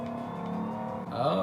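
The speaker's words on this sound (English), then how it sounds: "This Hellcat will absolutely just eat the tires when you're launching it." Dodge Hellcat engine droning loudly under hard launch and acceleration, with pitch rising sharply near the end and hinting at tire spin, heard briefly and up close.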